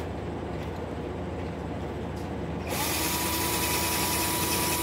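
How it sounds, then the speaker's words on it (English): A steady mechanical hum runs throughout, then a power drill sharpening a pencil whines up sharply and keeps grinding at a constant, loud pitch. "Until you use a drill."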